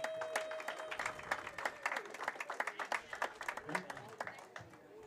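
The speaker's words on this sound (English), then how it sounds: "One more round of applause for him." A crowd at a women's professional bowling regional finals gives a lively round of clapping, brisk and close, with voices talking over it throughout.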